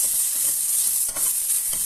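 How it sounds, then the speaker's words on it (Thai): Sliced pork belly stir-frying in a hot pan for a Thai curry-paste dish with bitter beans, giving a steady bright sizzle with soft stirring scrapes throughout, close and fairly loud, no voices. "ตามด้วยหมูสามชั้นที่เราหั่นไว้นำลงไปผัดให้หอม"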